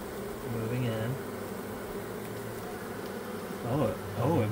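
Honey bees buzzing around a hive with a ramp laid out for them, a steady insect hum throughout with a few louder close passes near the end.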